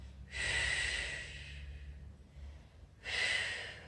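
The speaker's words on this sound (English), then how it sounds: "exhale, and get all the air breathing out" Forceful exhale during a yoga Uddiyana Bandha exercise: two strong, breathy rushes of air, the first long and fading, the second starting later, close and loud over a quiet room.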